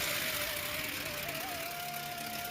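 A diesel car engine runs steadily at idle during DPF regeneration, a faint continuous hum and rumble with a thin whining tone on top, and no talking.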